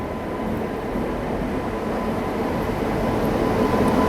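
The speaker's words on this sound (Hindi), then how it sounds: "लालगोड़ा शेड का अपना इल्लू IWAP 7 के साथ आ रही है बरौनी नई दिल्ली क्लोन स्पेशल।" A Barauni–New Delhi Clone Special train hauled by a WAP-7 electric locomotive arrives at night, a steady loud rumble of wheels and rail noise that swells slightly over a few seconds, with no talk.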